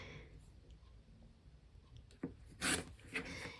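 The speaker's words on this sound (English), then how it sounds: "I'm gonna trim these ones with my rotary cutter." Rotary cutter trimming fabric quilt pieces, a few faint close rolling scrapes and cuts late in the clip, bunched brief bursts over a quiet room background.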